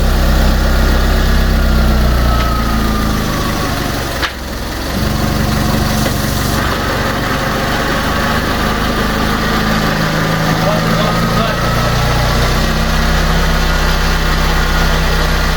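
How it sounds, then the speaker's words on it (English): A Fiat 500 engine idles after a head gasket repair, a steady low drone that runs close and loud throughout with only a slight dip partway. "How quiet that car sounds, Tom."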